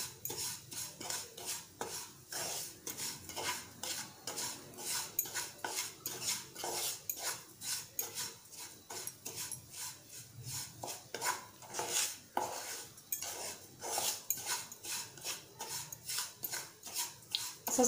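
Semolina roasting in ghee in a pan over low heat, with a spoon scraping and clinking steadily against the metal in a continuous rhythm throughout.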